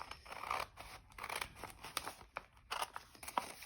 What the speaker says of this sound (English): So let's cut that there.